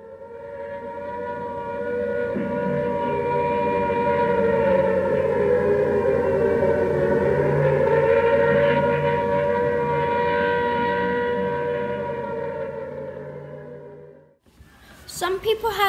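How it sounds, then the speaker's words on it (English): Air raid siren, a long sustained wailing tone that rises and holds steady for over ten seconds before cutting off abruptly, loud and alone. "They were warned about the attacks by an air raid siren."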